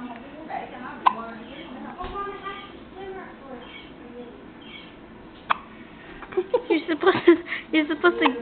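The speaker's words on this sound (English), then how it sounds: "I want to videotape her hiccups." A young girl hiccups after drinking milk, two sharp, isolated hiccups several seconds apart, with people talking and babbling softly around them.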